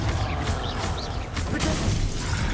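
The Confringo blasting spell in the Hogwarts Legacy video game, a dense crackling blast with shattering debris and rumbling impacts, loud and continuous through the short burst of combat effects.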